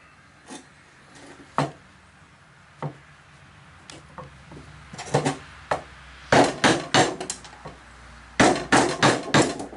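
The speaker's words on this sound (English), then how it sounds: "Notice I'm using the hammer sideways instead of like this" Hammer blows on a chisel cutting into wood while building a porch swing, sharp knocks starting as scattered single strikes, then coming in quick clustered runs of four or five, close and clear with no talk.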